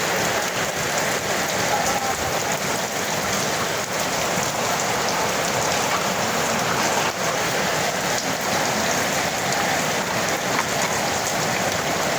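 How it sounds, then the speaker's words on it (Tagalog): Steady, dense rain falls after a heavy flood, a continuous close hiss of drops on surfaces running unbroken from start to finish with no voices. "Still raining."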